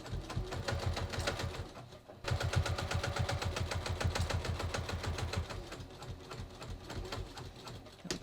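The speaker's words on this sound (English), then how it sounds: "I'm sewing from the top." Sewing machine stitching a seam down a denim skirt made from jeans, a loud, fast, steady mechanical chatter that pauses briefly, then runs on continuously close by.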